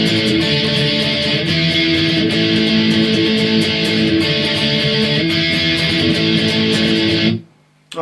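Close, loud distorted electric guitar power chords from the verse of a song strum quickly and continuously, then stop abruptly just before the end.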